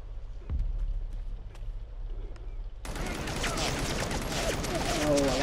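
Rapid gunfire from weapons in the VR game Crisis on the Planet of the Apes, a dense sustained burst of shots that starts partway through and stays loud to the end, with scattered earlier sounds and a voice talking.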